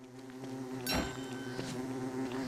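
Insect buzzing from a bee in a cozy community-server video game, a steady droning hum with a louder burst near the middle, set against a sustained tonal game music bed.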